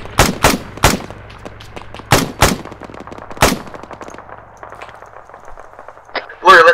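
Loud, close shots from ArmA 3 military gameplay ring out in sharp, separate bursts, several early and a couple more later, with a low engine-like drone beneath and a rattle near the end; someone talks between the shots.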